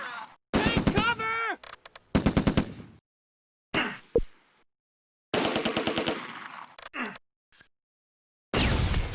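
.30 cal machine gun fire in the WWII war game Close Combat: A Bridge Too Far, loud sharp bursts with gaps of silence between them and a few groans and gasps mixed in.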